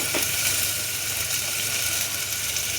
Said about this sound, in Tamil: வெங்காயம் எண்ணெய் காஞ்சிடுச்சு, வெங்காயம் போட போகிறேங்க.